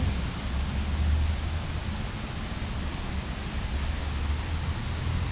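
Steady outdoor rain falls as a dense, even hiss of drops striking surfaces, growing heavier, with no voices over it and a constant wash of sound throughout.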